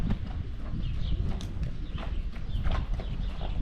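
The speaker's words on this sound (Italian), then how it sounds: "Guarda te, stanno addestrando il cavallo." A horse being trained near stables at Ait Ben Haddou clops its hooves steadily on the ground, a continuous outdoor scuffle of footfalls with faint bird calls in the background.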